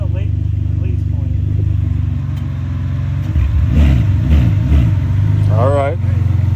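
A Ferrari 599 V12 with a Capristo exhaust, converted to a six-speed manual, accelerating uphill: a loud, close engine note rising in pitch over a few seconds, with someone talking over it.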